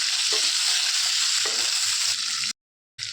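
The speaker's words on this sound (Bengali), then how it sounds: "একই তেলে মাছ যে তেলে ভেজেছিলাম ওই তেলে আমি পটলটা ভেজে নেবো" Pointed gourd pieces fry in oil previously used for fish, seasoned with turmeric and salt, giving a loud, steady close sizzle with stirring scrapes, a brief dropout near the end, then the crackle resumes.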